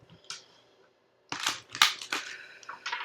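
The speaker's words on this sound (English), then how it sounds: "Let's get you guys one more shuffle here." Tarot cards being shuffled by hand: a short riffle near the start, a pause, then a run of crisp, close card flicks and slaps, loud and alone.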